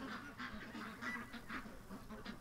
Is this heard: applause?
no